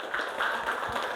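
A grade 6 primary school class applauds together in a classroom, a dense, steady patter of many hands clapping at once for just over a second.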